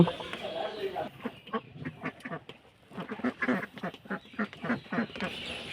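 Ducks in a village duck house quack repeatedly and close by in choppy, overlapping bursts, with a short lull partway through before the calls pick up again.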